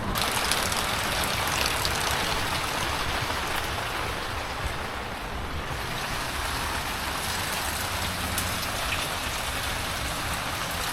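Steady, heavy rain falls throughout, a dense broadband hiss of drops pattering on surfaces, loud and close with no voices.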